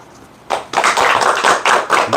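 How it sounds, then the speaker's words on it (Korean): A small group claps by hand after a farming lecture at an agricultural cooperative: sharp, close, uneven bursts of clapping that start suddenly and go on for about two seconds, with no talk over them. "박수는 안 쳐도 되는데"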